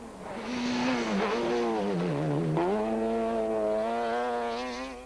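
A Castrol Toyota rally car arriving on a stage at the Rally of South Africa 2005, its engine rising from a distant approach to a loud, close, high-revving howl with shifting pitch as it passes.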